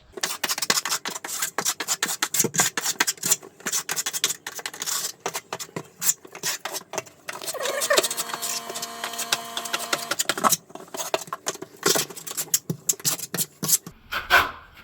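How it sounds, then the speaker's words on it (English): Steel trowel spreading drywall mud onto a shower wall during Schluter Kerdi membrane waterproofing, giving close, continuous scraping and smearing strokes with irregular rhythm, a steadier stretch midway, and no talking. "I like to just go ahead and get enough mud on the wall to, you know, work with"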